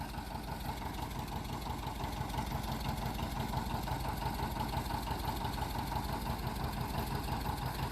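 A tractor hitched to a John Deere 1600A MoCo haybine sits idling, its engine giving a steady, close, rhythmic chugging rumble that holds constant throughout with no talking.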